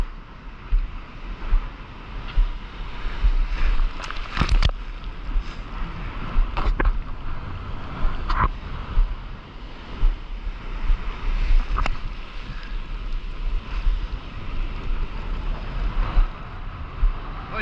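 Ocean surf breaks on a New York beach in autumn, a steady roar of waves with repeated surges, heavy wind buffeting the microphone and occasional sharp knocks.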